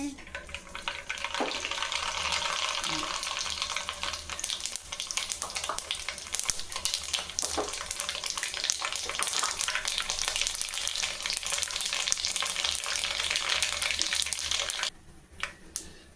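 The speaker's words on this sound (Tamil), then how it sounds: "எண்ணெய் காஞ்சிருச்சு. கடுகு சேர்த்துக்கிறேன்." Mustard seeds splutter in hot oil for a Tamil puli kulambu, giving a dense, loud crackling sizzle that continues steadily for about fifteen seconds before dropping off sharply near the end.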